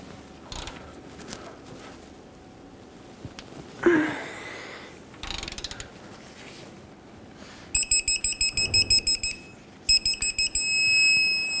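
A torque wrench ratchets on a bolt of a 2007-2014 Chevrolet Silverado 2500 HD front lower control arm, with scattered clicks and then a series of rapid electronic beeps as the bolt is turned 60 degrees.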